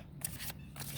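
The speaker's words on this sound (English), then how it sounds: "I'd also shuffle another beautiful deck" An oracle card deck is shuffled outdoors, giving three soft, papery riffling bursts spaced evenly over about a second, faint and close with no voices.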